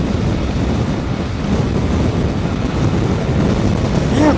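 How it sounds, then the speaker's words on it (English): Steady, loud wind buffeting a helmet or microphone while riding a Kawasaki Ninja 650 motorcycle at speed on an expressway, a dense continuous roar with no talking. "The wind, the vibration, the feeling of freedom that you get when you're on a motorcycle speeding through the expressway."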